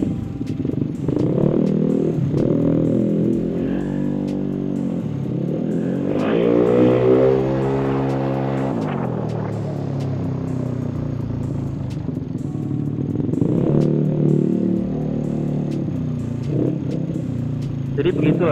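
Yamaha Mio scooter engine while riding, a steady close drone that rises and falls with throttle changes and surges in pitch midway, with someone talking over it throughout.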